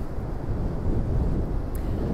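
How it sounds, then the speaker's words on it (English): Strong wind buffeting the microphone at the Blackpool seafront during stormy weather with big waves, a loud continuous low rumble and roar with no voices. "It's windy and there's some very big waves."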